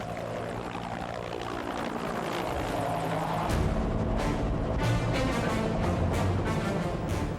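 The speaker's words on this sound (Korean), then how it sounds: "공격 헬기의 전술 비행 중에 산과 계곡, 지형을 따라 움직이는 침투 비행은 코브라 훈련에서 빼놓을 수 없는 중요 전술 훈련 중 하나다." A Cobra attack helicopter on a low tactical flight along mountains and valleys roars steadily, with its rotor beat pulsing more strongly in the second half, loud and continuous with no voices.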